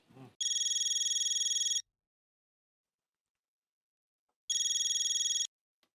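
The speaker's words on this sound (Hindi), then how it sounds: "जीतू भाई को फोन लगाओ" A telephone rings twice while a call is placed, each burst a rapid electronic trill lasting over a second, separated by a few seconds of silence, clear and close.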